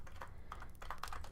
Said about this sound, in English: I'm typing too fast to be able to do grammar and stuff.